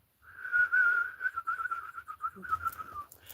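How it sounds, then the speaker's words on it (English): A single person whistles a sustained, slightly wavering tone for about three seconds, close and clear, with no talking. "I don't whistle, apparently."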